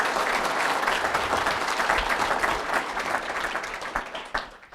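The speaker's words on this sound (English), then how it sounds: "let's give the Finger Family Farm here a nice round of applause." Crowd applause at the World Dairy Expo, a full round of clapping from an audience in a hall, steady and fairly loud, fading toward the close.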